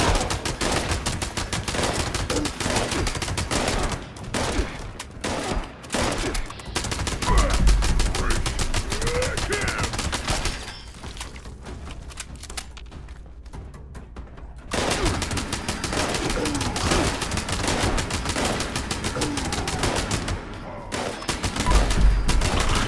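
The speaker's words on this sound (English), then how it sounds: "This gun with faster fire rate is really fun." An automatic rifle fires in Fallout 76 in long, rapid, loud bursts of continuous shots, with a short quieter pause midway before the firing resumes. A voice speaks only faintly beneath it.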